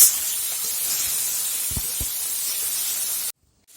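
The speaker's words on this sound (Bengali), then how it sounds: "আমি আলুটা একটু ভালো করে ভেজে নেব লাল করে।" Potatoes seasoned with salt and turmeric fry in hot oil in a pan, giving a steady, loud sizzling hiss with a couple of low knocks near the middle before it cuts to near silence at the end.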